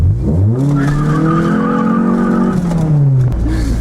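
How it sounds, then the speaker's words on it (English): A Honda Prelude doing a front-wheel-drive burnout, with a loud, close, sustained tire squeal over a revving engine, wavering in pitch for about three seconds before dropping off. "You always have to do a real nice front wheel drive burnout when you're an enthusiastic Honda owner like myself."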